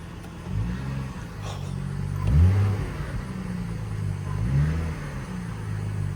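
A car engine revs in two clear bursts, rising and falling against a steady idle, close by with no talk over it.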